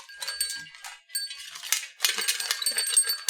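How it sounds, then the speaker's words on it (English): A small star-shaped wind chime from a dollar-store haul rings when it is handled. It gives bright, high metallic tinkles and clinks in irregular bursts with short gaps, close and fairly clear with no talking. "See how it makes that beautiful, like, welcoming chime that it does?"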